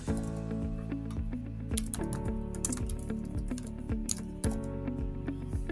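Typing a record title on a computer keyboard in a ServiceNow portal: a few rapid, close key clicks over a steady, loud background drone, with no speech.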